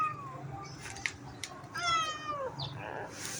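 A cat meows a few times, with short upward-sliding cries and a longer drawn-out one, fairly close over a quiet room background.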